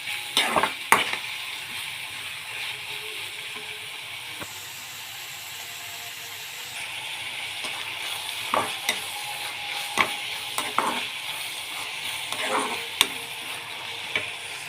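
Finely chopped onions sautéing in a pan until brown: a continuous soft sizzle, punctuated by scattered ladle scrapes and clicks, close and moderately loud, with no talking.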